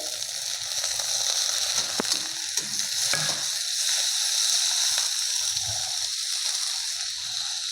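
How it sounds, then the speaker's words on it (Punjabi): Finely chopped tomatoes tipped into a frying pan with chillies, a few clattering knocks and a scrape, then a soft steady sizzle in the pan, fairly quiet and close. "ਹੁਣ ਪਾ ਦਾਂਗੇ ਆਪਾਂ ਦੋ ਟਮਾਟਰ ਬਰੀਕ ਕੱਟੇ ਹੋਏ"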